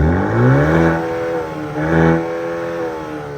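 A Maserati Grecale SUV revs up twice with a deep, throaty roar from its quad exhaust, rising and falling, loud and close.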